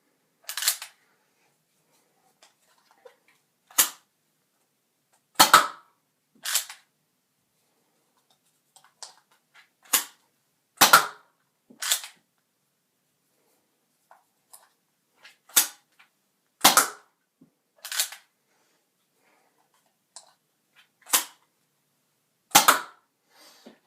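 A modified Nerf N-Strike Sharpfire blaster fires a series of about a dozen sharp, loud snapping shots, spaced irregularly a second or two apart, each a crisp click-pop with silence between.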